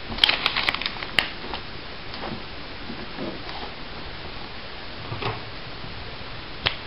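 Paper being folded into a recycled paper envelope on a craft table, a steady papery rustle with a few sharp creasing clicks early on, close and fairly quiet, with no voices.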